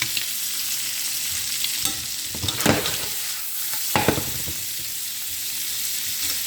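Flipped shrimp sizzle in a hot pan for shrimp scampi, a loud, steady frying hiss close by, broken by a few sharp clicks and scrapes as the pieces are turned and laid flat.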